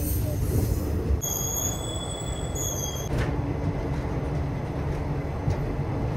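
Amritha Express train pulling into Rameswaram station, with loud, steady rail rumble and a high metallic wheel squeal rising for a couple of seconds before fading back into the rolling noise.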